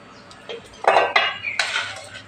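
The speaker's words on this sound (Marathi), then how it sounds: "आता आपण ही मीठ लावलेली फोडं ह्या बरणीत भरून ठेवणार आहोत" Salted lemon pieces are spooned into a jar, heard as a few sharp clinks and clatters of metal against glass, growing louder after a quiet start.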